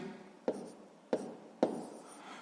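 A pen writes numbers on paper in three short, distinct scratches spaced roughly half a second apart, close and quiet, in a sixth-grade maths lesson on column multiplication.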